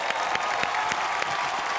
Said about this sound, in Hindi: मनोज तिवारी जी के लिए जोरदार तालियां।